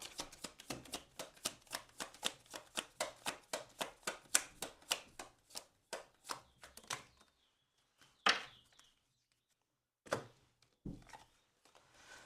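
Tarot cards are shuffled in a quick, regular run of crisp riffling slaps for about seven seconds, followed by a few isolated card taps and snaps close by.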